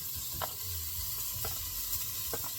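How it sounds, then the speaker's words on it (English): Steady sizzling of bacon frying in a hot pot, with a few brief clinks and scrapes rising over the constant hiss. "If you hear the sizzling, that means your pot is hot enough to get it cooking."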